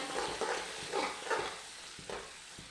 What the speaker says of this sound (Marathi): टोमॅटो, तेलामध्ये भाजून घ्यायचा